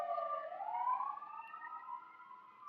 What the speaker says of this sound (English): Sorry, I just want the siren to pass.